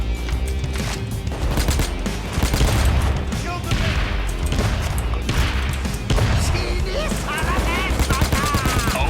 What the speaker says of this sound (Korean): 아비터의 소리가 들리는데 아비터 들고 계시네?